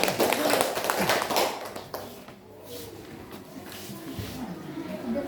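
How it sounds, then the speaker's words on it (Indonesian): Children clap hands in a classroom, a loud burst of scattered clapping at the start that thins out, with voices and shuffling around it. "tepuk tangan dulu nak"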